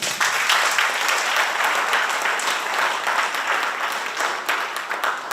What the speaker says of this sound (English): Y'all clap for him one more time